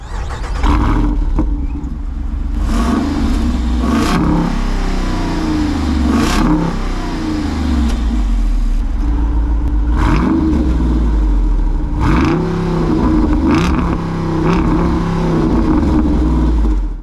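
A 2022 Jeep Wrangler Rubicon 392 with a V8 and quad exhaust revs repeatedly, loud close-up throttle blips rising and falling in bursts over a deep idling rumble.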